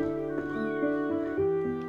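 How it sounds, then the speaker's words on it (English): Cat meowing in the video game Chrono Cross, a few drawn-out game-audio mews sounding over sustained background music tones, close and clear with no talking. "Oh, no, it's just a cat."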